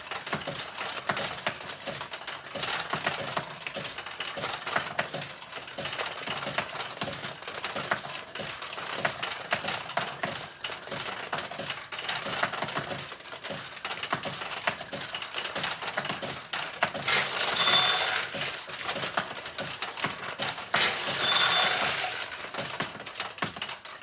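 A 1975 Nishijin Model B vintage pachinko machine running, a steady dense rattle of steel balls and mechanical clicking that continues throughout with no voices, with brief brighter chiming bursts near the end.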